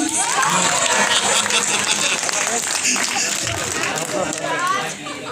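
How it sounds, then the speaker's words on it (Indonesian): Applause from the audience at a film press conference, a brief burst of clapping and crowd chatter that fades into people talking. "Berikan aplaus untuk Bunda dan Mane."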